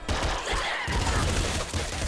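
Rapid, dense burst of gunfire from a weapon in the top-down shooter Nuclear Throne, loud and continuous over about two seconds with no pauses between shots.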